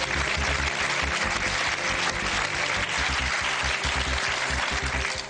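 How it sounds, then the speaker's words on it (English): A studio audience claps on a celebrity quiz show in a continuous, dense burst of applause, close and lively, lasting several seconds without speech. "if you really are going to sit there applauding yourself each time you get one right"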